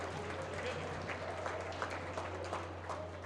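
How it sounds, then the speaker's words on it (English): Crowd applause at a 6th grade boys basketball championship game, steady clapping from many hands filling the gym throughout, with a voice talking over it. "Let's have one final round of applause for these young men and gentlemen."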